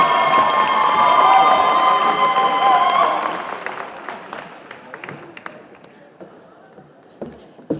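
A crowd at a commencement ceremony claps and cheers loudly, with whoops rising over the applause before it fades into scattered claps.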